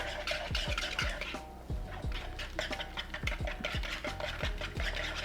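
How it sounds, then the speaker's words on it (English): Eggs being whisked in a bowl for German apple pancake batter, a steady run of quick rhythmic scraping strokes, close and fairly quiet, with no talking. "Giving it a little extra whisk to really get those eggs nice and a bit more fluffy."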